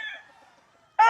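Chickens on a large farm in San Rafael, Bulacan, one bird's call fading away and then a sudden loud, close squawk or crow at the very end.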